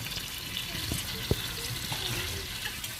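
Water is poured into an egg kulambu curry as it is being cooked, giving a steady splashing, running-liquid sound with a few small clinks against a soft background.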